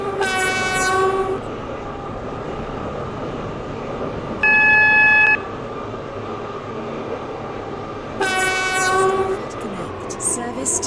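A Class 720 train in the Roblox SCR game arrives at a station, rolling with a steady rumble under two long horn blasts at the start and end and a short, louder electronic chime in the middle.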